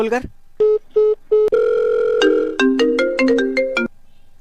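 A phone ringtone plays close and loud: a few short repeated beeps, then a bright melodic jingle of quick tones.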